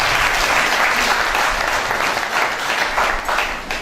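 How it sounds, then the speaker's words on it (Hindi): An audience at a Pakistani mushaira poetry gathering breaks into loud, sustained applause, a dense steady clatter of clapping hands that continues throughout. "भरपूर ताली।"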